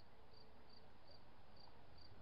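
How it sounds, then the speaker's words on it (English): Crickets chirp in short, evenly spaced bursts beside a lake at the water's edge, a faint steady pulse over a soft wash of background noise with no talking. "listening to crickets and the water lapping up against the shore"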